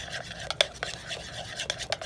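A utensil stirs dye into homemade stretchy, clicky slime made with borax and water, giving short wet scraping and clicking strokes close by in an irregular rhythm, with no talk.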